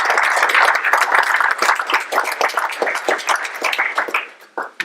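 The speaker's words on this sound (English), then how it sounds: "let's give a quick round of applause for Mr." Audience applause at a speaker-series talk, distinct close claps bunched densely at first, then thinning into scattered hands and fading out near the end.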